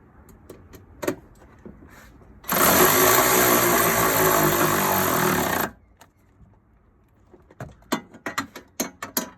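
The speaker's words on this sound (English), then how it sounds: "that's got our 3 6mm bolts secured, and that's using the 10mm socket" A socket wrench with a 10mm socket drives 6mm bolts into a dual battery tray on a 70 series 4x4, giving a sustained buzzing power-tool run of about three seconds, framed by sharp ratcheting clicks before and after.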